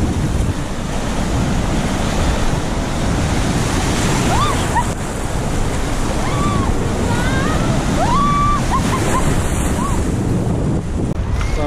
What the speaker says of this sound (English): Big waves over the other side.